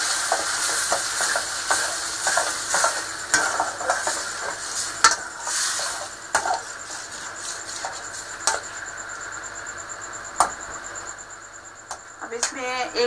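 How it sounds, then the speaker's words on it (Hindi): Tomato, ginger and garlic fry in a pan while a spoon stirs them, giving a close sizzle with scraping strokes and occasional metal clinks that thin out toward the end. "और ये अब मैं इसे थोड़ा सा चम्मच चला के ना भूनना है।"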